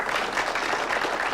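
A crowd at a professional pool match applauds a shot with brief, steady clapping from many hands, moderately loud and continuous.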